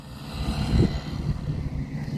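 A paramotor engine at full throttle during takeoff gives a loud, droning propeller buzz with strong harmonic tones, swelling slightly near the middle of a short burst.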